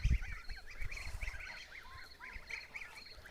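Kholmogory geese honk repeatedly in a steady chorus of nasal calls, fairly close and continuous, with some low rustling and thumps underneath.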